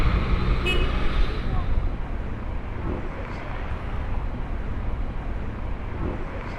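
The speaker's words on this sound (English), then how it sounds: "Mind the cars and cross over." Cars pass along a seafront street in Paphos, a rumbling roll of traffic that is loudest at the start and then settles into a steady mid-level wash of road noise, with a brief horn toot early on.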